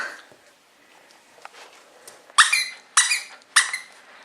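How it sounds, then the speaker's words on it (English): A dog squeezes a squeaky toy three times in quick succession, sharp and close, after a few soft rustles and a faint squeak. "You figured out how that squeaky works, don't you?"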